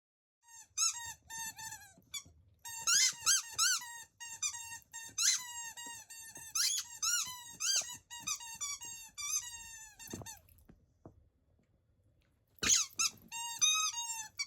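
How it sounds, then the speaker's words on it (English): A rescue greyhound by the fire squeaks a toy again and again in quick, uneven bursts of sharp high squeals with brief pauses, close and clear in an otherwise quiet room. "Fairy loves to warm up by the fire with a squeaky toy."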